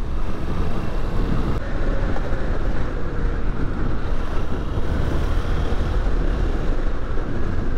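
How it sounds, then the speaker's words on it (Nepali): Steady, loud wind rushing past the microphone during a ride on a Honda XR190L motorcycle along an open road in Nepal on a clear, breezy day, a continuous broadband roar with no talk. "मजाको हावा चल्दैछ आज चाहिँ."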